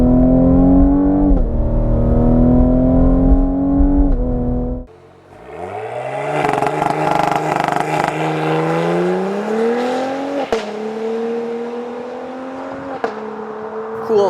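A 2020 Cadillac CT5-V AWD engine roars loud and close, holding a strong rising note, then drops away briefly before surging again through climbing gears with clear upshifts, with no voices over it.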